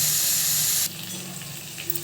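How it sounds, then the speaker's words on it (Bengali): Small pieces of banana and diced potato frying in hot oil until golden, a steady loud sizzle that drops to a softer crackle partway through. "লাল ভাজা, যখন দেখবো যে সোনালি রং চলে এসেছে তখন হয়ে যাবে ভাজা।"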